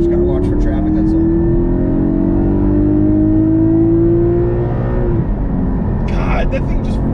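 A 2020 Porsche GT4 engine revs hard and climbs in pitch for several seconds, loud and close from the cabin, then drops off abruptly as the rev ends, with a brief clatter near the close.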